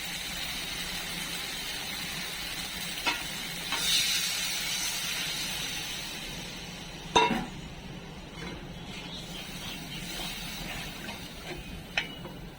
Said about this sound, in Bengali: এখন আমি ঝোল দিয়ে দেবো।